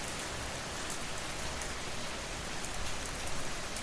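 Gentle rain falls steadily, a dense, even hiss of drops on surfaces that stays unbroken throughout with no thunder or voices.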